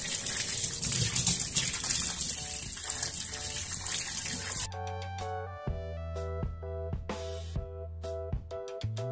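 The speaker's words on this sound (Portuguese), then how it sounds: "eu vou enxaguar" Running water rinses Pantene shampoo out of henna-treated hair as a loud, steady gushing rush for about four seconds. It then cuts off and music takes over.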